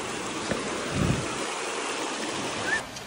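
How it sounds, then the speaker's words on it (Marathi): A river at Umbhrande waterfall near Trimbakeshwar rushes steadily, a broad continuous wash of water with a couple of brief thumps and a faint whistle-like tone, close and alone. "ही आहे नदी"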